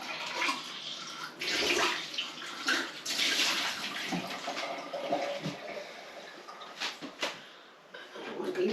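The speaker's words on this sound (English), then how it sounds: "And then what I'll do is quickly rinse this out." Something is rinsed out under running kitchen water, with irregular splashing and gushing that swells and fades alongside a few soft knocks of handling.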